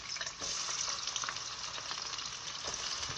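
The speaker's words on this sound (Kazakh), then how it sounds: "Енді пиязымызды қуырып алатын боламыз." Diced onions fry in a preheated pan, giving a continuous close-up sizzle with crackling pops and occasional stirring scrapes, no voices.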